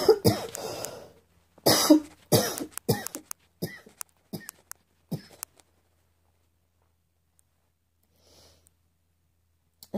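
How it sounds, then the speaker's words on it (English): A person coughs repeatedly, a dense cluster of sharp, close coughs in the first few seconds, then fainter isolated coughs and throat sounds tapering into near silence. "my body coughed and coughed and coughed"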